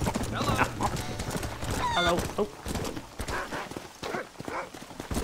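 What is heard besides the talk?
horse hooves in a video game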